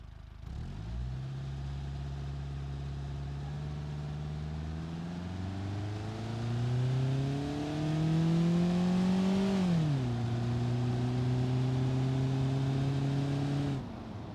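A car engine makes a full-throttle pull in BeamNG.drive without nitrous, climbing steadily in pitch through the gears, with one shift dip, then holding a loud sustained roar before cutting off.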